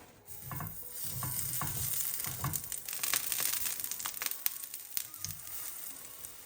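Vegetable slices fry in a little olive oil in a pan over lowish heat, giving a close, steady sizzle with soft scraping and stirring knocks scattered through.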